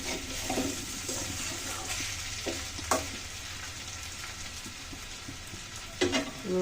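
Cauliflower and potato with egg frying in a pan, a steady close sizzle with occasional louder scrapes and clatters of stirring.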